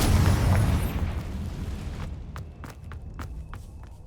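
A Confringo spell blast in the video game Hogwarts Legacy, a loud rumbling boom that fades over a couple of seconds, followed by light rapid footsteps.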